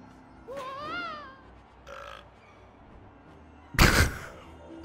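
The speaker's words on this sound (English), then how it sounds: "Why was there a burp?" A cartoonish burp sounds in the LEGO Harry Potter video game: a short, rising-and-falling tonal belch, followed later by a louder, harsher burst amid quiet game background sounds.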